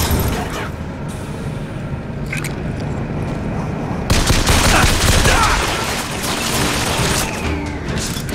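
Sustained automatic gunfire from a machine gun in the video game BioShock, dense and loud throughout, with a heavier burst partway through and no talking.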